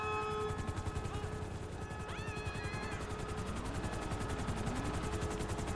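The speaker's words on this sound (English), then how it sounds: "Helicopter inbound." A helicopter arrives in Grand Theft Auto V, its steady rotor thump loud and close throughout, mixed with game music tones and some gunfire-like crackle.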